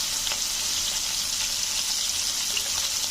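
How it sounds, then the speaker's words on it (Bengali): Fish sizzles in a hot pan with oil during home cooking, a steady, close crackling fry that continues evenly without any talking. "এই তো তারপর মাছ ভাজি করতেছি"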